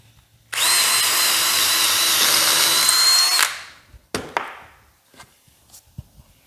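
A power drill with a depth limiter bores through a wooden workpiece in one loud, continuous whine lasting about three seconds, then spins down, followed by a few sharp knocks and clatters.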